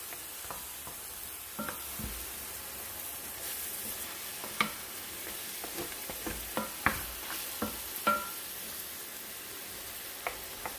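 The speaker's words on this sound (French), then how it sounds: "mélangez tous les ingrédients pour bien enrober la viande de toutes les épices" Meat, onion and spices stirred in a pan for a prune tajine, a steady sizzle with repeated scraping clicks of the utensil against the pan, close and fairly quiet throughout.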